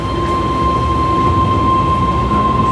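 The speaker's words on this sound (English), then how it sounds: "The train lurches forward" A train lurches forward, a steady loud rumble of rail cars with a sustained whining tone over low mechanical roar, constant and close throughout with no voices.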